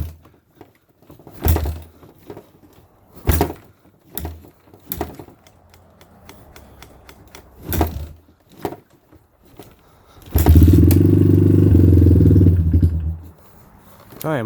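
A Suzuki LT230S ATV engine struggles on a cold start, giving several separate sputtering bursts. It then catches and runs loudly for a few seconds before cutting out again, with brief talk in between.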